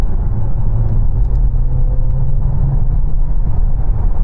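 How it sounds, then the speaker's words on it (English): A DS9 hybrid sedan accelerates at full throttle, a steady low engine and road rumble droning loudly and evenly from inside the cabin with no voices. "I'm going to floor it."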